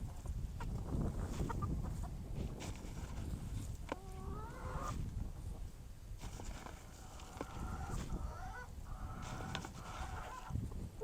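Chickens cluck and murmur on and off in the background, with a few higher squawks, over rustling outdoor noise.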